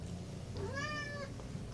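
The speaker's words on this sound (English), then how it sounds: "My cat is being really noisy and obnoxious." A cat gives a single drawn-out meow, rising and then falling, fairly faint and close over a low steady background hum.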